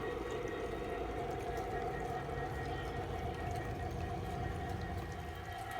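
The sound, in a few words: model garden train running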